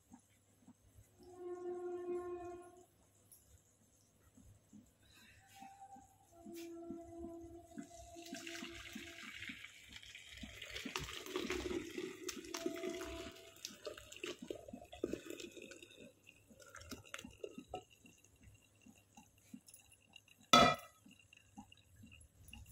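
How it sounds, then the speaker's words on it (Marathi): Whey draining through a sieve as freshly made homemade paneer is poured in, a quiet trickle and splash of liquid with intermittent pouring and dripping, plus a sharp clink near the end. "आता आपण या चाळणीवरती आपले जे तयार झाले पनीर ते वतून घेऊया"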